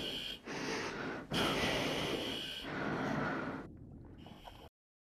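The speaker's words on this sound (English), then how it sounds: "Who's breathing like that?" Heavy, ragged breathing from a diver in a deep-sea diving helmet during a tense underwater scene from the 1989 film The Abyss. It comes as loud, raspy bursts with short pauses, then cuts to silence.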